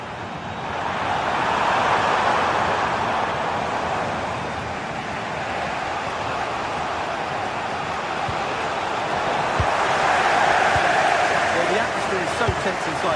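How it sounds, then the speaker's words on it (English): Football video game stadium crowd roars steadily throughout, a broad sustained cheer swelling near the start and again toward the end, with a commentator's voice partly over it. "The crowd certainly think so. Just listen to them."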